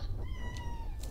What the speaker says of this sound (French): quand il miaule on dirait un enfant